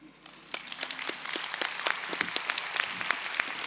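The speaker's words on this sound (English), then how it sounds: "I think we need to give them one more applause, right?" A conference audience claps after a library marketing campaign presentation, the applause building from sparse claps into a steady, fairly distant patter of many hands, with no voices.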